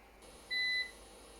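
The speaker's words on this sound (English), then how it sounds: "Even ignoring the beeping" A single steady electronic beep from an nJoy Cadu 1500VA 900W UPS under load, high-pitched and clean, sounding for about a third of a second over a low background hum.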